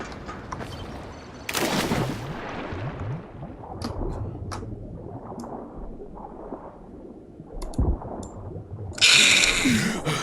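Sharp gunshots crack from the video game Dying Light, a few isolated shots and a louder burst near the end, over quiet game ambience.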